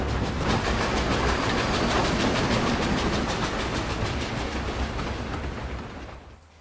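A steam train rolls in on rails, its wheels making a loud, steady clickety-clack that pulses rhythmically before easing and fading away at the end.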